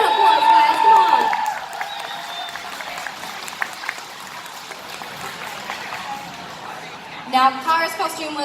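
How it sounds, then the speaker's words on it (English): Audience applause at a cosplay competition: a loud burst of clapping and crowd noise at the start fades into a long, quieter stretch of scattered claps, then a short swell of cheering and noise near the end. "Big round of applause, guys, come on."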